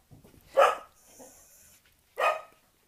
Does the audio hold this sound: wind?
no